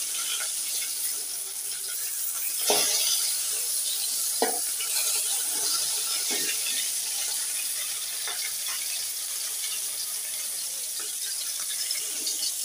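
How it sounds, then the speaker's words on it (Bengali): Three pieces of meat frying in a pan make a steady, loud, hissing sizzle throughout, broken by a few sharp pops and clicks, with no talking. "3 পিস গোশ ভেজে দিই।"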